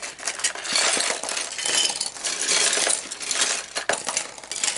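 LEGO bricks and pieces, including Technic and Bionicle parts from a flea market haul, clink and rattle against one another as they are sorted by hand, a dense, continuous jumble of small plastic clicks.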